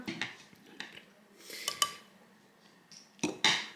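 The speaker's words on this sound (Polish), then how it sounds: "Wrzucam ją tutaj do blenderka." A steamed peach dropping into a blender jar in a kitchen, followed by clinks and knocks of utensils and dishes, several separate close clatters with quiet gaps in between.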